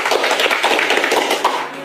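A small group claps quickly and unevenly at close range, a short burst of sharp overlapping hand claps that fades slightly at the end.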